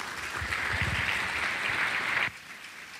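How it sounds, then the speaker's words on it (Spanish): Strong applause welcoming a speaker at a civil engineering lecture, a broad burst of many hands clapping with a brief voice near the start, cutting off abruptly after about two seconds into quiet room tone. "Recibámoslo con un fuerte aplauso."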